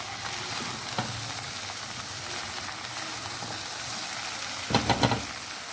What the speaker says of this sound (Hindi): साथ हम भून जाएंगे, ये अच्छे से भून जाएगी।